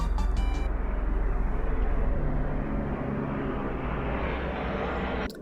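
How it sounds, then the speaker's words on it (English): Airplanes passing by overhead: a steady, broad engine roar that stays loud for several seconds, slowly eases, then cuts off near the end. "And there's planes passing by."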